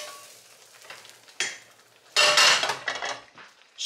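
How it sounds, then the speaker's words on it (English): Chopped onions and garlic tipped into a pot of meat sauce for spaghetti over high heat and stirred, with clattering impacts, a utensil scraping against the pot and a burst of sizzling, moderately loud and close, with no talk. "Add your onions and garlic."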